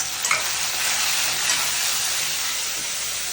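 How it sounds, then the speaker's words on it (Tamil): Coconut, onion, curry leaves and coriander sauté in a pan, giving a steady, close sizzle with stirring scrapes throughout and no talking. "தேங்காய் வெங்காயம் கருவேப்பிலை கொத்தமல்லி பார்த்தீங்கன்னா வதங்கியாச்சு"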